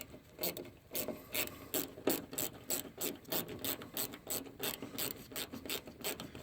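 A ratchet tightens a fastener on a 2011-2015 Hyundai door during lock actuator and window regulator work, with quick repeated close clicking strokes in an even, steady rhythm throughout.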